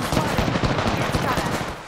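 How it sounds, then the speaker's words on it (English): Rapid gunfire from a firefight in the Apex Legends battle royale game, a dense continuous rattle of shots close and loud across the whole moment, with no pause between bursts. "Shots fired at me."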